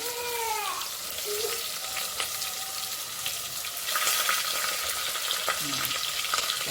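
Vertically sliced onion frying in oil with bay leaves for a simple rice pulao, a steady, fairly loud sizzle throughout with occasional clinks of a spoon stirring the pan.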